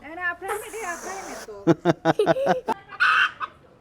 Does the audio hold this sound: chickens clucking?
yes